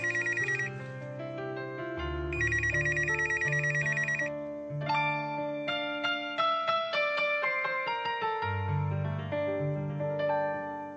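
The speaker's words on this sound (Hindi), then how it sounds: "मैं फोन सुन के आती हूँ," A telephone rings in a home drama scene, with bright repeated electronic bell bursts over a melodic background score, the ringing clear and prominent in the opening seconds.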